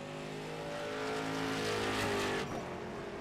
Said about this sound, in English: Scrape of the wall.